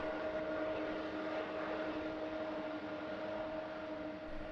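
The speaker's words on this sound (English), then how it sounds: "Engines spool up to full power, producing a strong thrust that propels the long fuselage rapidly along the runway." Aircraft engines at full takeoff power as the jet starts its takeoff roll, a steady, moderately loud roar with a sustained whine, heard at a distance, with no voices.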